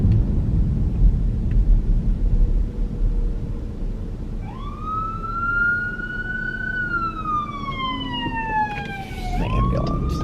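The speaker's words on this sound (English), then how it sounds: "An ambulance." An ambulance siren wails past on the road, a rising and falling tone that starts partway through and sweeps downward as it passes, over steady traffic rumble with no talk.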